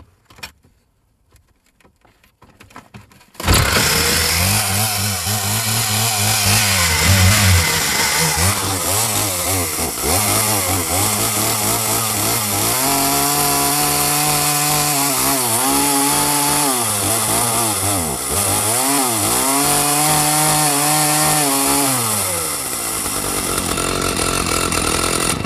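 A used Wild Thing 18 chainsaw, cold-started with the choke half out, fires after a quiet moment and runs loud and close, its engine note rising and falling through repeated revs and idles.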